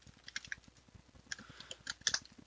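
Close, quiet keystrokes on a computer keyboard, irregular clicks tapping out a short entry, with a few sharper key presses bunched toward the end and no voices.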